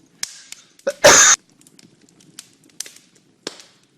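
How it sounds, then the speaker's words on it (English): A single sharp cough or sneeze bursts out close by, surrounded by quiet breathy clicks and small rustles. "I'm going to cough"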